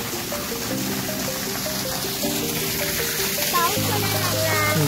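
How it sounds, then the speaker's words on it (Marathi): Rain pours at the Gandharpale Buddhist caves near Mahad, a dense, even hiss of falling water that fills the whole stretch, with faint voices underneath. "वरून पाऊस जेव्हा आपला बरसतोय"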